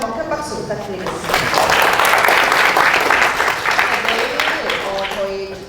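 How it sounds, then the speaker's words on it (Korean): Conference audience applause for a speaker after a Python talk on Jupyter notebooks, a dense crowd of clapping swelling quickly, holding for several seconds, then tapering off. "발표해주신 김대권님께 다시 한번 큰 박수 부탁드리겠습니다"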